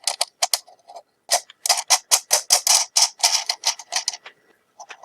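Small nuts are threaded by hand onto rectifier filter board supports, making bursts of quick, close metallic clicking and scraping in short irregular runs with brief pauses between.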